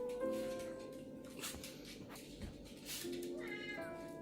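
A cat meows several times in short, fairly close calls with gaps between them, heard alone against a quiet room background.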